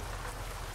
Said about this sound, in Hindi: अरे यहाँ पे बारिश आ रही है, यहाँ पे बारिश आ रही है, वेरी रियलिस्टिक